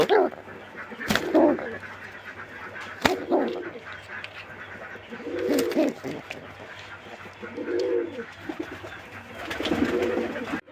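Pigeons in a loft full of eggs and chicks, including a three-month-old paired male, give repeated soft rolling coos in bursts every couple of seconds, close by, with a steady low hum and occasional knocks behind them.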